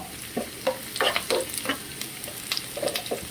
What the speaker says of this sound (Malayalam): ഇങ്ങനെ സവാള വറുത്തിടണേ